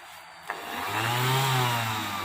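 A GXE 125-150 AVE round orbital sander switches on with a click and spins up to a steady, smooth whirring hum, running freely without touching anything.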